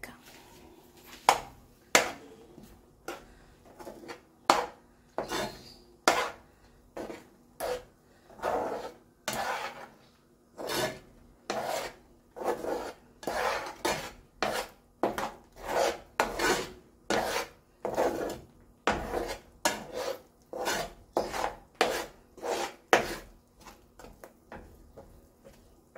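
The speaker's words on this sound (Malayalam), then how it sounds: "എന്നിട്ട് ഇതൊന്ന് നന്നായി ഇളക്കി ചേർത്ത്" A spoon scrapes and rasps around a kadai while coconut mixture for a mango roll is stirred, giving a long series of irregular, fairly close scraping strokes with brief pauses between them.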